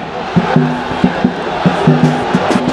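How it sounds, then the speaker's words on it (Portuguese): Flamengo supporters chant rhythmically as a dense crowd in a football stadium, with steady massed voices and repeated shouted syllables. "Torcida do Flamengo mandando Muralha tomar no cu."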